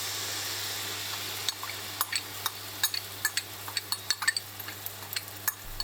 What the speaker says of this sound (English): Once the tsukune are cooked, add the sauce to the pan.